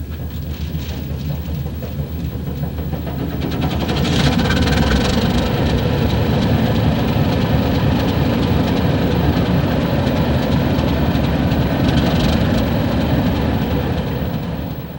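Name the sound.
Baldwin diesel locomotive on the Trona Railroad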